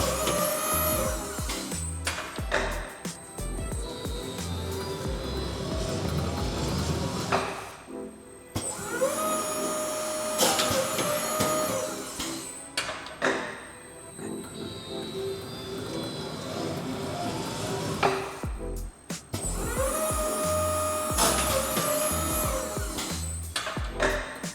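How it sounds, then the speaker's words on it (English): A Talurit LKA 30 PS automatic wire rope cutting machine feeds and cuts wire rope of 3–30 mm diameter, running in loud repeating cycles of mechanical whirring and humming with abrupt pauses between cuts, close up. "We now have a machine that automatically feeds and cuts the wire rope for us and produces."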